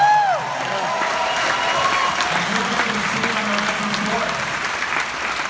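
An audience at a film Q&A claps in a sustained round of applause, dense and fairly loud, with a few voices and brief talk over it.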